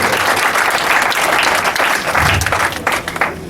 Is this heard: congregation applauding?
yes